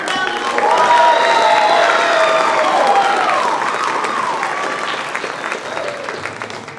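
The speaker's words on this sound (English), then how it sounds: "Can you give these guys another round of applause?" An audience applauds and cheers for high school guitar performers at a winter holiday concert, with dense clapping that swells early and then gradually tapers off, and whistles rising above it.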